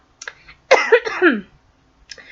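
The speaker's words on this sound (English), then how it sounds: "sorry about the coughing, I'm a little under the weather" A short throaty cough, then a longer harsh rasping cough, and a faint final cough after a pause, close and alone.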